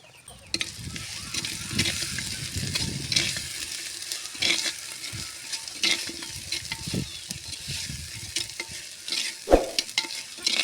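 Biryani ingredients frying in a clay pot, a steady close sizzle broken by repeated scraping stirs of a spoon against the pot.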